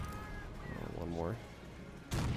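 A tank cannon firing in a video game running the RobZ Realism Mod, a sudden loud broadband blast at the end after a stretch of engine rumble and someone talking.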